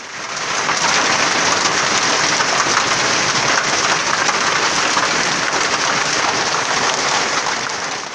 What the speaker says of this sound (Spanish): ante la caída de granizo que midió hasta media pulgada producto de las fuertes lluvias